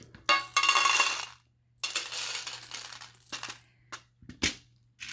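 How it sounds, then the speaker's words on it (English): Fingers rummaging through a jar of buttons, sharp clattering bursts of many small plastic pieces, then scattered separate clicks and rattles, close up. "jar of buttons."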